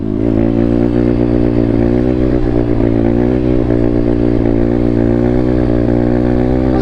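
A pit bike's small engine revs steadily and loudly at close range while being tuned, its motor note holding a continuous buzzing drone with slight throttle wavering throughout, no speech over it.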